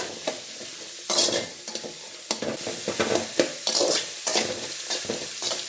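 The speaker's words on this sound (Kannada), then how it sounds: "ಈರುಳ್ಳಿನ ಫ್ರೈ ಮಾಡ್ಕೊಂಡ್ರಣ" Chopped onions fry in hot oil in a pan while a spoon stirs them, giving a steady close sizzle broken by repeated scraping stirs, with no talking.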